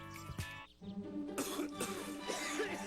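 A person coughs and clears their throat a few times in quick succession, up close, amid background noise.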